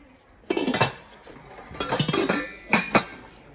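Stainless steel FIVESTAR five-layer-base pots and pans with glass lids clink and clatter as they are unboxed, three close bursts of metallic knocking and ringing separated by short quiet gaps.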